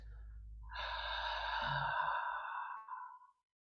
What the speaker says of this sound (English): this is some ujjayi breath